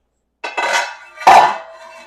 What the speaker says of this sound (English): I am just going to remove the lid